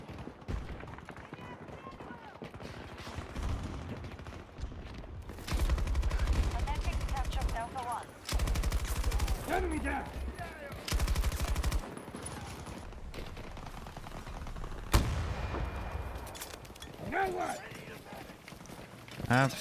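Gunfire in a shooting video game, with sustained loud bursts of rapid automatic fire in several stretches, sharp single cracks between them, and a steady background of game noise, close and forceful.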